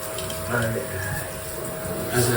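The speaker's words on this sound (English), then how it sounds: "as I rinse, I can see the parts where the dirt did not come off completely" Tap water running steadily while a bathtub is rinsed, a continuous close splashing hiss with a few louder surges, with a person talking over it.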